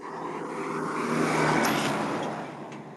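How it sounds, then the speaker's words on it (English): A truck rumbles past on a road in central Angola, swelling to a peak midway then fading, a broad steady road roar without voices. "I couldn't hear you because the truck drove by"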